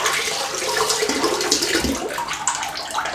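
An Edwin Jagger 3ONE6 razor is rinsed under running water, a loud, continuous close-up splashing and hissing stream with no pauses.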